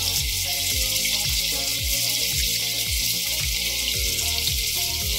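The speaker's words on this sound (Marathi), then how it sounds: "आता हे थोडंसं परतून यामध्ये 4 बारीक चिरलेले कांदे मी घालते" Finely chopped onions sautéing in a pan with garam masala for spicy prawn masala rice give a steady, loud sizzle that runs under background music with a regular thumping beat.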